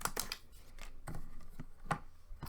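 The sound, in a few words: cutting paper with a We R Memory Keepers slimline punchboard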